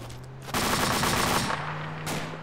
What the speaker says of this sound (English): Hey, 240, you need to put some fucking bursts in those trees.